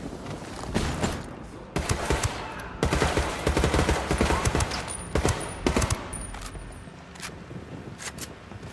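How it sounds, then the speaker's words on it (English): Rapid gunfire bursts and a flash grenade blast from the tactical shooter Ghost Recon Wildlands, loud and dense throughout with repeated volleys, sharp cracks and a sustained barrage. "Throwing a flashbang."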